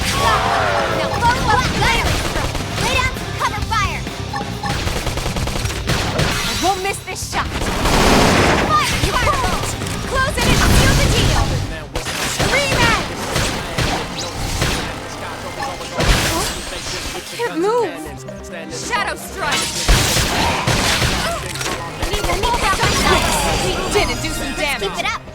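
Bursts of rapid gunfire and booming blasts from combat in the video game Xenoblade Chronicles X, loud and dense across the clip, with shattering impacts and voices talking over the action.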